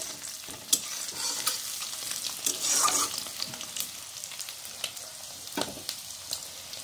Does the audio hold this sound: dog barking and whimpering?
no